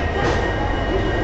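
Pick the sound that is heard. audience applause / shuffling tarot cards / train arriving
train arriving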